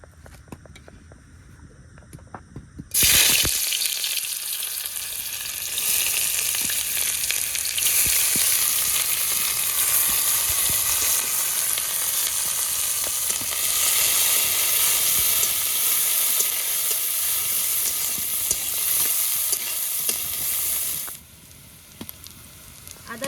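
Onion, tomato and spice paste fry in a pan: after a quiet start, a loud, dense sizzle bursts in and holds steady for most of the clip before cutting back to a low background.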